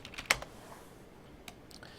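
A few scattered keystrokes on a computer keyboard, quiet and close, with short pauses between light clicks.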